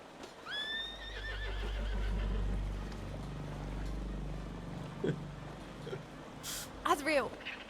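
Horse in the WildRP western game neighs with a rising whinny early on, then hooves clip-clop along beneath, and a second shrill neigh bursts out near the end; a speaker talks over parts of it.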